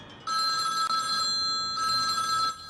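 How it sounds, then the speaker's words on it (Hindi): A telephone rings indoors in loud, steady bursts of a bright electronic bell tone, two long rings separated by a short gap, with no voices over them. "मेरा फोन बज रहा है।"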